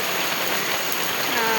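Steady monsoon rain pours down in the Konkan in May, a dense continuous hiss of drops on surfaces, close and even throughout with no voices.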